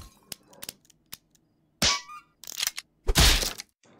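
A prop gun fires in the Henry Stickmin Collection game, with sharp, loud cracks and bursts spread irregularly across a few seconds and short clicks and thuds between them.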